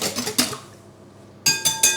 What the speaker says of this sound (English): give them a whisk,